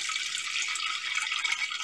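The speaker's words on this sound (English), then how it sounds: "That's a good stream of water." A strong stream of water runs steadily from a tap in a kitchen, a loud, continuous hiss and splash with no talking.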